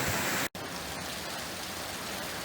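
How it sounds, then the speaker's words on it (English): Heavy September rainstorm in central Portugal, a dense steady wash of rain pouring down close by with one brief dropout, and no speech over it. "What an absolute storm that is."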